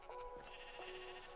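Sheep in the video game Minecraft let out a few short, faint bleats in quick succession, thin and nasal over a quiet background.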